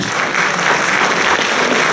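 Concert audience at the Palais des Congrès in Cap d'Agde claps in a dense, even wash of applause, close and steady for a brief stretch with no voices over it.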